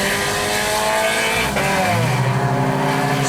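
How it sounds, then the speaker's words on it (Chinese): A modified Perodua Bezza 1.3L sedan climbing the Genting road in Malaysia revs hard, its engine pitch rising, dropping at a shift, then climbing again in a loud, close, sustained drone. "我感觉到你的 engine 声好像有一点 VTEC 的声音去哦"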